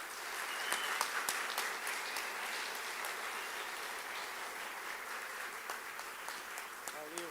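Audience applause for the debaters at a theology, communion and food event, a steady wash of clapping sustained throughout at moderate distance, gradually easing toward the end.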